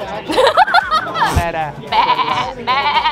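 A person mimics a sheep's bleat with two wavering, nasal bleats near the end, following a stretch of lively chatter and a chuckle close to the microphone.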